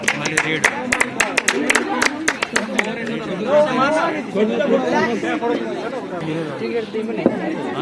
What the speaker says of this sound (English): everyone, please give a great round of applause for Team Green